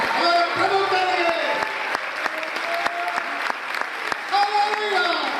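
A church congregation applauds during a Hindi sermon, sustained loud clapping from many people with crisp individual claps, while voices and sung or shouted tones carry over the top.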